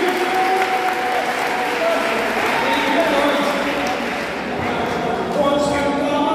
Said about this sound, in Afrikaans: Gee nog vir lekker hande klap julle.